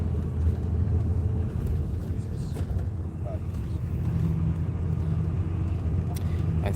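Low, steady engine rumble heard from inside a moving bus on a trip from Laos to Vietnam, droning continuously with faint rattles, while a voice talks intermittently over it.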